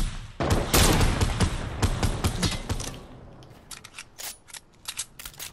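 Rapid bursts of video game gunfire crack out close and loud in a dense volley, then thin into scattered, sharper single shots and clicks that stop and start over the final seconds.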